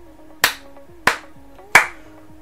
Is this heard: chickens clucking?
no